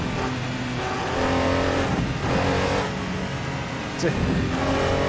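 A car braking into a sharp corner with understeer in Assetto Corsa on an LA canyons road at night, a loud engine drone rising and falling as it slows and turns, with someone talking over it.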